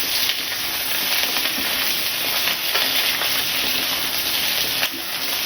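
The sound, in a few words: whole onions lightly frying in a pan for chicken stew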